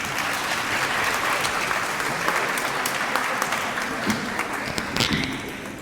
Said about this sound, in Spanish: damos la bienvenida y un fuerte aplauso